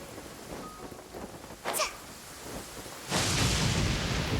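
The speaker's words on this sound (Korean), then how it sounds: "천둥까지 치는데." Rain and thunder in the video game Genshin Impact: a steady rain hiss runs throughout, a sharp thunder crack bursts briefly in the middle, and the downpour swells loud and close toward the end, with no talking.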